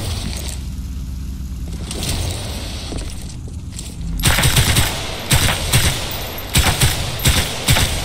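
In Titanfall 2, a weapon fires at the training range. After about four seconds of quieter background, loud, close, rapid bursts of automatic gunfire begin and repeat in several clusters until the end.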